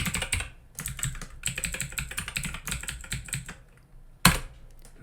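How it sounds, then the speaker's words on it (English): Code being typed on a computer keyboard, with rapid bursts of clicking keystrokes broken by short pauses and one sharper loud key strike near the end, close and clear with no talking. "We type margin."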